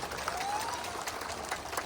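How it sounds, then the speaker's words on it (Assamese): An audience claps at a public programme in Udalguri. The applause is a brief, fairly faint patter of many hands heard from a distance. "গোবিন্দ বসুমতাৰী ডাঙৰীয়া সকলোকে হাত চাপৰি দিবলৈ অনুৰোধ কৰিছো।"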